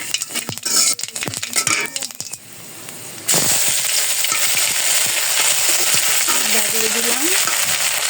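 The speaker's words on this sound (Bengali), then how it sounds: "ওই তেলে যে একটা শুকনো মরিচ আর তেজপাতা দিয়ে দিলাম, দারচিনি এলাচ দিয়ে দিলাম" Dry chili, bay leaf, cinnamon and cardamom hit hot oil left from frying potatoes, with clinking utensils first and then a loud steady sizzle.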